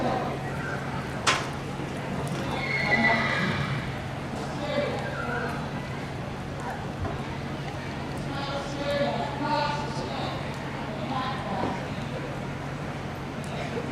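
Soft hoofbeats from a Spanish gaited horse moving at a steady gait, partly buried under crowd murmur and a low continuous hum, with a few brief voices.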